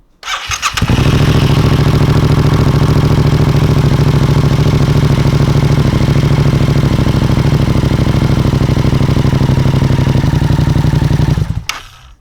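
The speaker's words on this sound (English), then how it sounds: "I'm gonna go ahead and turn on the bike and you'll see it drop" Yamaha FZ-07 motorcycle starting up and settling into a loud, steady, close idle during an oil change, its even engine pulse running without talk until it cuts off near the end.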